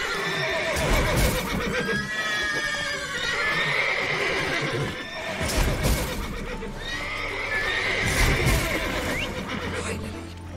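Agitated horses in The Witcher 3 video game whinny and neigh several times in loud bursts, with steady hoof clip-clop underneath.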